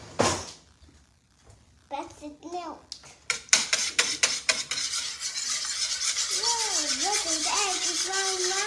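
Eggs being whisked in a bowl, rapid rhythmic clinking and scraping strokes close by, with someone talking and singing over the mixing.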